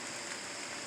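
Steady rain falling outdoors, a continuous even hiss with no breaks, fairly loud and close, no voices.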